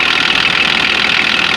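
A used replacement car engine with under 10,000 miles idles close by, giving a steady, loud, even hum and whir that never changes, with no voices.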